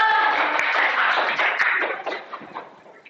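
A classroom group claps their hands together in a dense burst of applause that lasts a few seconds and then fades out.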